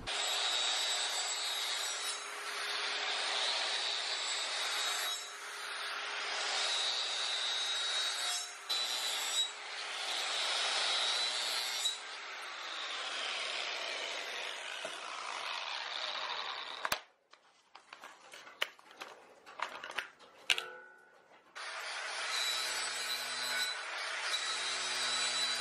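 A regular flap disc grinds metal in a long, steady abrasive whine that runs loud for about seventeen seconds, breaks into a few scraping bursts and clicks, then starts up again near the end.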